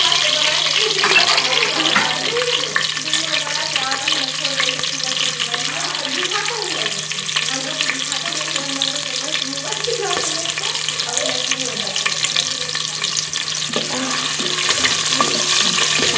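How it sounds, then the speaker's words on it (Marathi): Green chillies roasting in a pan after whole spices, giving a dense, continuous sizzle and crackle at close range with occasional stirring scrapes throughout. "याच्यात आपण टाकायचं आहे मिरची. पूर्ण भाजून घ्यायचं व्यवस्थित"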